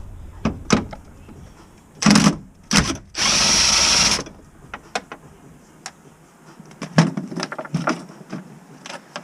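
A power tool fitted with a 13 mm socket removes a coilover bolt on a BMW E46. It gives a few short whirring bursts and one longer, louder run, close up, with small clanks in between.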